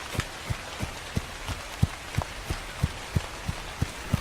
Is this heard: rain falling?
yes